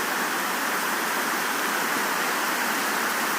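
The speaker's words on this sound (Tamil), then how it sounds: "ஃபுல்லாக சுற்றி மேகம் கருதுன்னு மூடிட்டு செம்ம மழை பெய்யுதுங்க" Heavy summer rain pours down outdoors under dense dark clouds, with wind bending coconut and banana trees, making a dense, constant hiss that stays loud and unbroken throughout.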